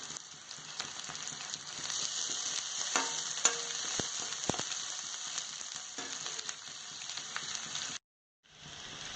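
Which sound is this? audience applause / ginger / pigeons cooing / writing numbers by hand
ginger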